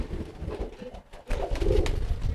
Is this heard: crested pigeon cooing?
yes